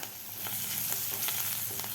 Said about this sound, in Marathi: हळद व्यवस्थित आपल्याला परतून घ्यायचं आहे यामध्ये थोडीशी आपल्याला कोथंबीरसुद्धा घालायची आहे फोडणीला